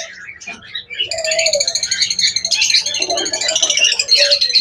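A pair of Fischer's lovebirds calling in a cage, dense overlapping high chirps and squeaky chatter running almost continuously, close and fairly loud after a brief quieter start.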